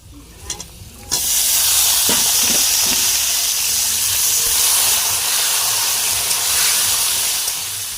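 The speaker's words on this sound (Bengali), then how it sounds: "সবজিগুলো ভাজতে বসিয়ে দিয়ে মশলা করে নিয়েছি" Vegetables frying in a pan, a few faint clinks and then a loud, steady hissing sizzle that sets in suddenly and holds close and unbroken throughout.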